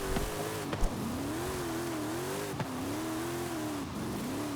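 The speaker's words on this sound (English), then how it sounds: "I wanted to hear that supercharger whine so badly" Supercharged police drift car in Forza Horizon 5 revving with a wavering high whine over the engine note, steady and fairly quiet, with a couple of brief knocks and no voices.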